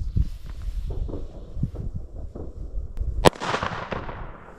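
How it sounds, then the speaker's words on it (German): A large Chinese firecracker goes off at a New Year's Eve fireworks celebration, a single sharp loud bang late on, preceded by scattered distant pops and thuds and followed by a fading crackling rush. "So, zur Abwechslung mal ein dicker China-Böller."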